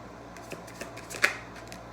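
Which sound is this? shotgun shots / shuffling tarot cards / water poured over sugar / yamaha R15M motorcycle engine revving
shuffling tarot cards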